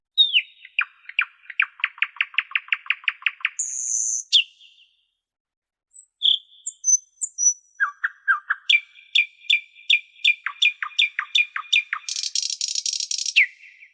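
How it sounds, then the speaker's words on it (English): A nightingale sings alone and close, mixing rapid rattling trills, sharp chirps and clear whistled notes in varied phrases separated by short pauses. "The nightingale is a rather common little animal which is named after its beautiful song."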